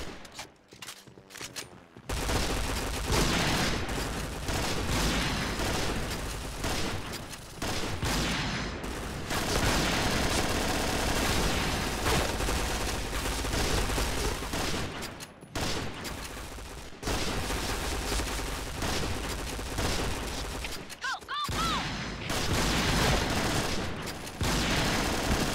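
Dense gunfire from the first-person shooter Point Blank, with steady automatic bursts and rapid shots running almost nonstop and loudly, broken only by a few brief pauses.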